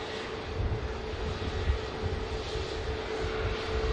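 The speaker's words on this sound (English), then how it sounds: "A321 Neo on the move." Airbus A321neo in KLM colours taxiing at Manchester Airport before a flight to Amsterdam Schiphol, its engines a steady, moderately loud, continuous hum with a low rumble.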